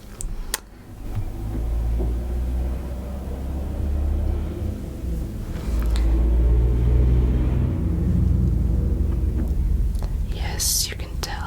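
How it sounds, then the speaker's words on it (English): Cars pass on a nearby road, a low, steady rumble that swells and fades as vehicles go by, with soft whispering over the traffic. "you can tell by the cars we are by the road"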